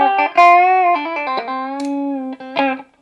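Electric guitar through a Bogner Alchemist amp head with the bright switch on, playing ringing clean single notes and chords with sustained tones, alone and close.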